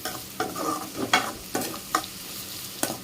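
Vegetables with salt being sautéed in a pan for a vegetable semiya biryani, with repeated scraping stirs at an irregular rhythm over a soft, faint sizzle, close by and fairly quiet.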